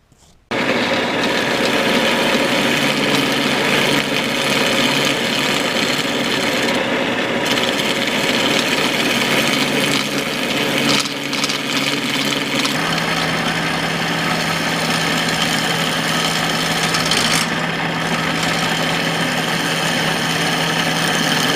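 A wood lathe spins a segmented wood sculpture held on a small glued faceplate with a steady rest, the tool scraping out the inside in a steady, loud, continuous grinding rasp that shifts slightly in tone partway through.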